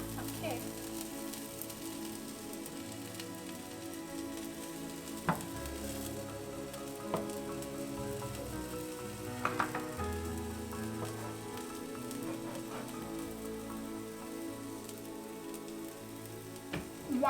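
Rava uttapam sizzles steadily in a pan, a continuous bed of crackling with a few sharper pops and taps scattered through, close and moderately loud.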